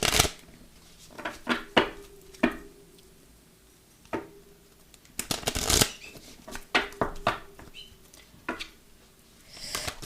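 Oracle cards being shuffled for a tarot reading, a series of close, crisp riffling and flicking bursts coming in irregular clusters with soft gaps between them, and no talking.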